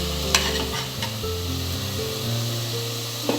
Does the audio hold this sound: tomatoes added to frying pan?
yes